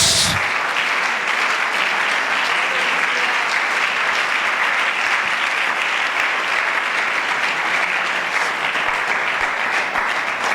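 A church congregation claps continuously during a Sunday school service, a dense, even wash of applause that holds steady throughout.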